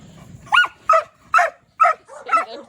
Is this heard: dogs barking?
yes